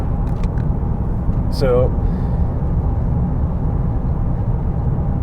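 A tuned 358 bhp Audi A3 with the BKD engine and quattro drive runs along the road with a steady low rumble from inside the car, and a voice briefly speaks over it.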